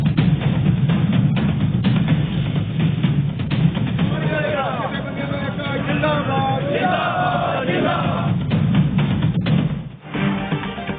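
A dense protest crowd at Jama Masjid in Srinagar, Kashmir, chanting slogans, a loud continuous roar of massed voices rising in rhythmic shouts throughout.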